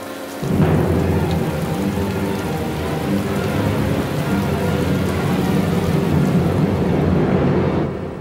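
Heavy, steady downpour in an Alpine mountain setting beside a torrent, a dense continuous roar of rain with low rumbling thunder beneath, loud and unbroken for the whole stretch, with no voices.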